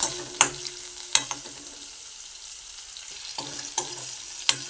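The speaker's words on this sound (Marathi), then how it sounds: "ते गरम झालं का आपण त्यात कढीपत्ता आणि कांदा टाकून घेतला आहे." Curry leaves and onion frying in hot oil, a steady soft sizzle broken by a few sharp stirring clatters against the pan; close and moderately loud, with no voices.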